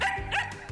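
Dogs at a dog café with a wide grass lawn give a quick, close bark and yip in under a second.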